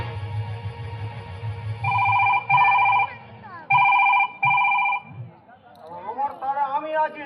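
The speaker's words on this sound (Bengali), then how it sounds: "আবার কে ফোন ঢোকাচ্ছে" A telephone rings on stage during a Bengali Gajan folk-theatre comedy: two loud double-ring bursts in a steady pattern, followed by voices and background chatter.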